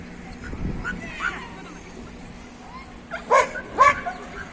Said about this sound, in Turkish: Avlamaktan köpeğin sesi kedi gibi çıkıyor.